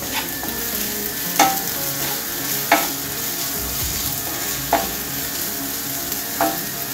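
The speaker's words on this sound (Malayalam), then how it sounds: "നെക്സ്റ്റ് കറിവേപ്പില ഇട്ട് ഒന്നുകൂടി വഴറ്റുക." Onions sauté with curry leaves in a pan, a steady close sizzle broken by a few sharp scraping strokes of the spoon every second or two, with no voices.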